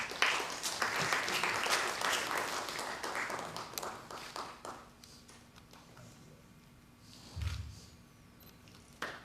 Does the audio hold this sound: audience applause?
yes